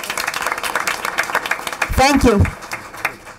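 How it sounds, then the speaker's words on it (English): Audience applause at a school board meeting: a continuous crackle of clapping runs throughout, with a speaker's voice talking over it near the middle. "A round of applause for all our parents and students."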